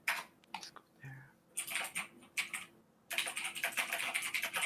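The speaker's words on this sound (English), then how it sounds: "Oh, someone's got that mechanical keyboard. He's clicking up a storm." Rapid clicking of a mechanical keyboard, keystrokes coming in quick bursts with brief pauses, fairly close and moderately loud, no talking over it.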